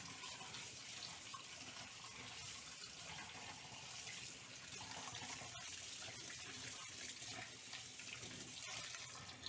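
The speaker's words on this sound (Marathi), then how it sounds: "आता साध्या पाण्यानं त्याला धुवून घेऊया" A steady stream of plain tap water rinses freshly boiled, drained noodles. The rush of water runs continuously and close for the whole stretch, with a few small splashy ticks and no speech.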